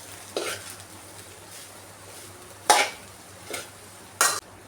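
Rice is stir-fried with vegetables and paneer for fried rice, a soft sizzle running under three sharp spatula scrapes and clanks against the pan, heard up close with no speech.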